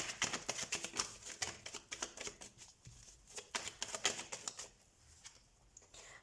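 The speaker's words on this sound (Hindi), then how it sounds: "सबसे पहले हम कार्ड शफल कर लेते हैं प्लीज" A deck of tarot cards is shuffled up close in quick, crisp riffling bursts of papery clicks, steady at first and thinning out toward the end, with no talking.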